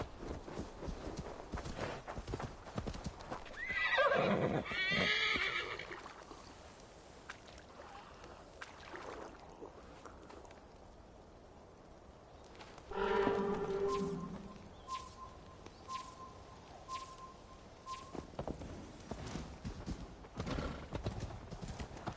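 Hooves clip-clop in Assassin's Creed Valhalla under game ambience, with two louder swells around a neighing horse and splashy movement, then scattered footsteps-like knocks to the end.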